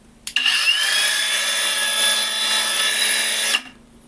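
A Procraft Industrial AG125C cordless angle grinder spins up on its first speed, about 3500 rpm, giving a steady, loud whine for about three seconds before cutting off into quiet.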